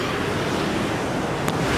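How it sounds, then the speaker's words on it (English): Ocean waves just outside a room, heard as a steady, loud wash of surf with wind buffeting the microphone, and no talk. "Oh, the ocean's right out there."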